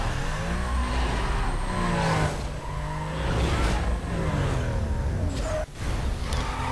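Race car in a drag race in Need for Speed: Most Wanted, its engine droning and rising through gears with tire squeal, a steady loud roar briefly dipping at each shift.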